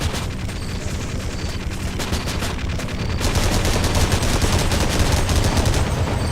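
Apache attack helicopter firing in the They Hunger video game, a continuous loud stream of rapid gunfire that grows heavier and denser halfway through, with no voices.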